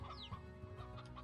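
Chickens cluck in the video game Slime Rancher, a few short soft clucks and bursts repeating through the scene with a faint steady background tone.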